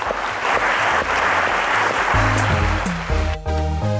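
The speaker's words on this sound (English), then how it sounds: "let's give them another round of applause" Studio audience applause on a televised maths quiz show, a broad wash of clapping that soon has a musical sting with low sustained tones rising underneath it, loud and continuous.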